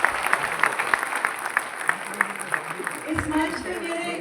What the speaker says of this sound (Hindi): एक बार सभी के लिए जोरदार ताली।